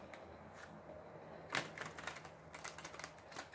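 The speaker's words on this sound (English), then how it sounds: "These cards are wanting to be shuffled very well" Tarot cards shuffled by hand in quick bursts, soft riffling and flicking close up, growing busier after a sharper snap, quiet and without talk.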